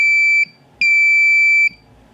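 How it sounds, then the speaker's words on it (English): A push-button doorbell buzzer gives two steady, loud, high-pitched electronic tones, a short one and then a longer one, each cutting off abruptly to near silence. "Anytime I push it down, we hear that buzzing sound."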